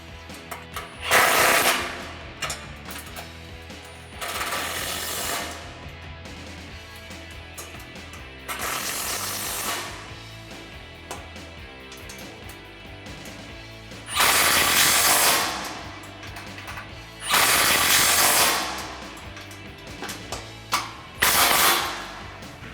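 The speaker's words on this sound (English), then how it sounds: "To tighten the uppers, you're going to use this Allen key included in the kit and a 13mm socket." A ratchet with a 13mm socket tightens bolts on a grille guard for a 2007-2013 Silverado or Sierra 1500, giving repeated rapid clicking bursts close by, separated by short pauses and handling noise.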